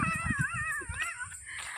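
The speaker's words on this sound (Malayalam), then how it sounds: "അവിടെ പട്ടിയുണ്ട്" A dog outdoors on a village path lets out a short wavering whine or howl, fairly close, with some rustling and footstep noise underneath.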